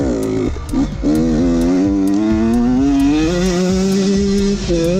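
A Beta RR125 two-stroke enduro motorcycle engine revs hard and high, its buzzing pitch climbing steadily as it pulls into the top end, loud and close throughout.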